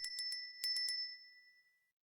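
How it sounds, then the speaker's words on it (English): Chiming bell in the video game Grill'd: The Vanishing, two quick clusters of three bright rings each, followed by a fading ringing tail, clear and alone. "The third bell rang."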